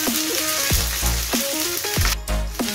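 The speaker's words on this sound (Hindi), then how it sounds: "हल्का फ्राई कर लेंगे हम इसे।" Boiled minced meat kheema frying in a hot pan for Afghani kheema, a steady loud sizzle with repeated scraping stirs and clanks of a utensil against the pan, no talking.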